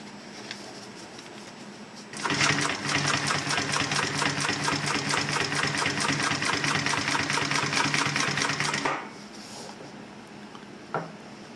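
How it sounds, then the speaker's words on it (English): A Brother LS2 B837 unison-feed lockstitch industrial sewing machine stitching through vinyl runs about seven seconds with a fast, even mechanical chatter. It starts abruptly and stops abruptly, loud and close, with quiet moments before and after. "So we'll just sew on some vinyl."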